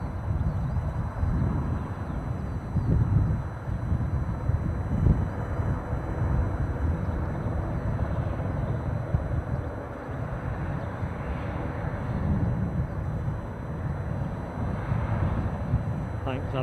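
A fixed-wing airliner departs Aberdeen Airport bound for Stavanger, its engines giving a steady loud roar throughout, with a person talking over it.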